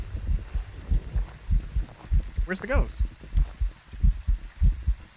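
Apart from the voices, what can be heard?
heartbeat sound in video game Phasmophobia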